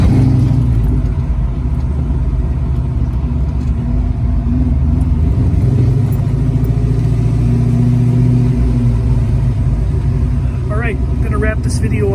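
A 1967 Ford Mustang convertible with a 5.0 V8 idles steadily while warming up, a loud, continuous low engine rumble filling the whole stretch, with some speech and a few brief higher sounds near the end.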